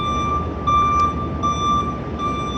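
A truck's reversing alarm beeps repeatedly in a steady, even rhythm, moderately loud and clear over a low background hum, with no talking.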